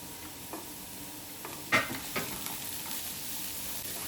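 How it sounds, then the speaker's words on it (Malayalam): Spring onion whites and vegetables being sautéed in a pan give a soft, steady sizzle, with a few faint scrapes and clicks of stirring and no talk. "എല്ലാം കൂടി ഒന്ന് വഴറ്റിയെടുക്കണം ഇനി ഇതിലേക്ക് സ്പ്രിംഗ് ഓണിയൻ്റെ വൈറ്റ് പോർഷൻ ഇട്ട് കൊടുക്കുന്നുണ്ട്"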